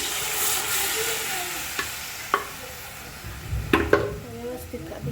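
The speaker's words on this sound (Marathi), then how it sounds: "आता उसळ टाकून घेते मी त्याच्यात" Boiled sprouts stirred into sizzling masala in hot oil for a sprout curry, with steady close frying hiss, several sharp clinks and scrapes of a spoon against the pan, and someone speaking briefly.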